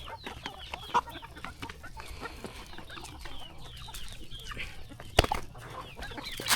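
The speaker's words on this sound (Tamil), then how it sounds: "எங்கே பார்த்தாலும் சேவல்கள் தான் தெரியும்." A flock of country chickens clucking and chattering close by on a farm in the morning, with roosters among the hens; busy, overlapping calls with a few sharper squawks and no talking.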